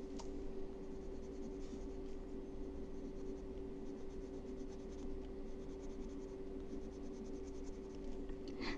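Quiet scratchy strokes of a colored pencil rubbing across paper, soft and steady, over a low background hum.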